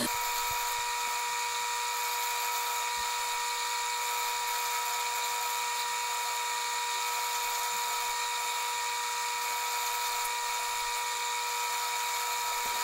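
Metal lathe turning a conical tip on a brass pen part, the tool fed back and forth on the compound rest, giving a steady high-pitched whine with continuous bright tonal lines throughout, no speech.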